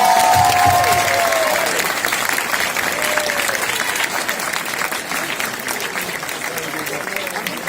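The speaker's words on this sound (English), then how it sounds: "Clap it up, y'all." Crowd applause at a foundation event during the Pan African Film Festival, loud sustained clapping with some cheering and voices, gradually easing but continuing throughout.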